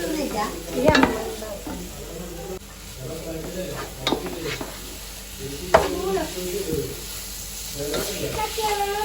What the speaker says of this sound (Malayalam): അപ്പൊ ഇത് നന്നായിട്ട് വഴറ്റുക. ഇതിൻ്റെ ഒരു പച്ചമണം പോകുന്നവരെ വഴറ്റാം കേട്ടോ.